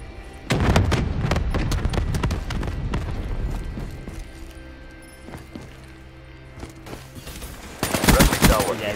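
Gunfire in the Call of Duty Black Ops 3 beta: rapid bursts of automatic shots crack close and loud, thinning to scattered single shots mid-clip before another heavy flurry near the end.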